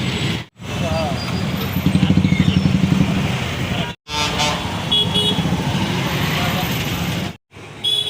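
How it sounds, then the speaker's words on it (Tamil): Busy road traffic in Avadi, Chennai, with engines rumbling and a horn honking, a steady wash of vehicle noise broken by a few brief gaps. "ரொம்ப டிராஃபிக்"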